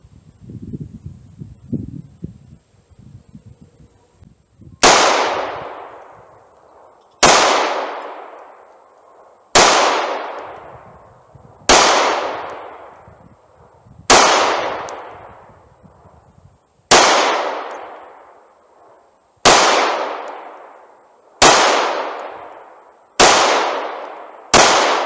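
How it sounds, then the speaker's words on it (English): Taurus G2C pistol fired with Federal Hydra-Shok 135 grain ammunition at 7 yards: about eleven sharp, loud shots at a measured pace, each with a ringing decay, after a few seconds of quiet handling. "Now we're changing bullet weight, 135 grain, Federal Hydro Shot."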